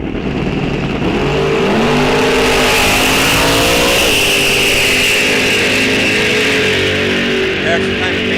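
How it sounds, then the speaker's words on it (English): Drag race cars, including a Camaro, launch side by side down the strip at Rock Falls Raceway, a loud, close engine roar with rising revs and a tone sweep as they pull away, while an announcer talks over it. "Action time advantage going to the Camaro of Anderson / Eric."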